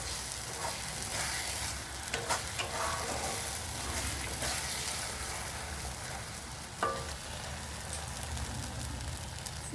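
Mann kochu paste, a ground taro mixture, fries in a pan while it is stirred, giving a continuous close sizzle with soft scraping and a few small clicks, no voices.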